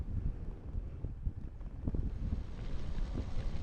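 Wind buffets the microphone of a cyclist riding between tall hedgerows in the countryside, a continuous gusty low rumble with uneven loud bursts and no talk.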